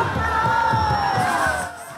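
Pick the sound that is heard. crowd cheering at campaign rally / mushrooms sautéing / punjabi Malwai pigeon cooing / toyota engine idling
crowd cheering at campaign rally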